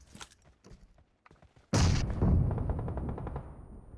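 A burst of gunfire and explosions in the mobile battle-royale game PUBG Mobile, loud and sudden after a quiet stretch, with rapid repeated shots and booms that decay and ring on for a couple of seconds.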